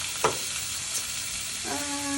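Steady hissing sizzle of chicken frying in a hot pan, with a light clink of a utensil and a faint tonal ring near the end.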